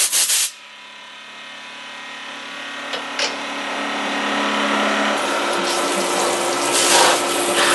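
A milling machine cuts the center pocket for a fuel pump, giving a continuous metallic whir and grinding rub that builds slowly in intensity after a brief rattle at the start.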